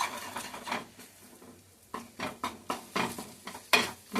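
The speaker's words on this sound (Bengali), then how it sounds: "এই ক্ষেত্রে একটু গ্যাসটা সামান্য জোরে করে দেবেন, ডিমটা ফ্রাই হবে তো।" An egg fries in a pan over high gas with a soft hissing sizzle, broken by rhythmic scraping and clinking bursts of a utensil against the pan, heard close with no talking.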